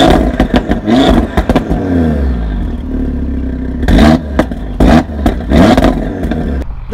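Audi RS3 saloon with a turbocharged 2.5-litre five-cylinder engine and loud exhaust, revving hard up close with sharp throttle blips and crackles between sustained engine drone.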